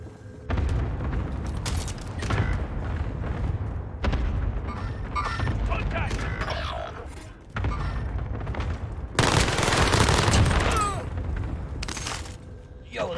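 Bursts of rapid PPSh submachine gun fire in a Call of Duty-style video game, loud and close, broken by short pauses and layered with booms and in-game voice callouts.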